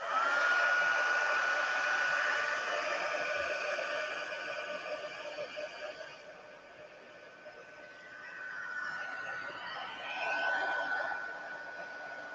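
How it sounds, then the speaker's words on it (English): Heat tool switched on high while making a card, a steady blowing whoosh with a faint whine held throughout, close and continuous, with light laughter in the background. "I'm going to bring in the heat tool. I'm going to turn it on to high"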